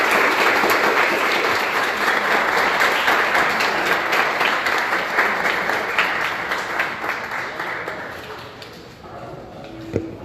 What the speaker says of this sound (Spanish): un aplauso nuevamente a Álvaro